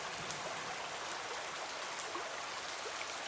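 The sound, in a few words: rain falling in cartoon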